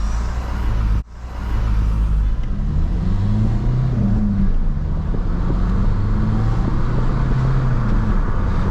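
A 2010s Renault Megane 3 Coupe with a 1.5 diesel engine pulls away from a standstill, its steady low engine drone building gently under a brief pause near the start, recorded close from inside the car.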